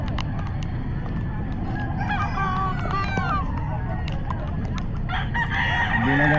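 Chickens and roosters at the Bocaue pet market crow and cluck in a dense chorus, several overlapping calls rising over steady heavy rain and crowd noise, with a person talking at times.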